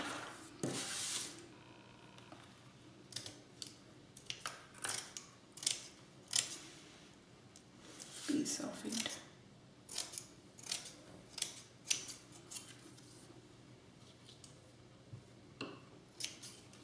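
Scissors cutting cheesecloth for a curtain on a double-sided photo tag craft: a quiet run of close, crisp snips and rustles coming in uneven bursts.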